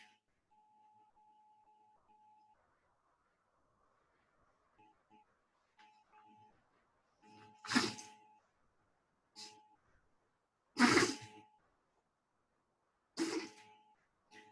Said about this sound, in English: My dog is sneezing.